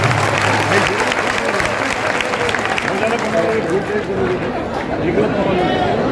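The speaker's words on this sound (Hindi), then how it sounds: "भाई थोड़ा जोरदार ताली बजाओ यार" Crowd of young students at Bansal Institute of Science and Technology in Bhopal clapping steadily and loudly, with chatter and voices mixed into the applause.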